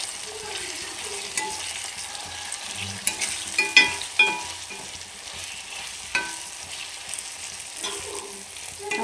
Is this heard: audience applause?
no